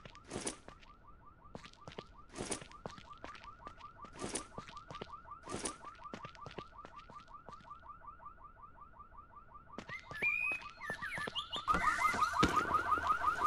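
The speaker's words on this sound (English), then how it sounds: "Let's double up on that alarm," A car alarm in the zombie survival game No One Survived whoops in a steady repeating pattern, fairly quiet at first, with sharp thuds punctuating it and louder game noise building near the end.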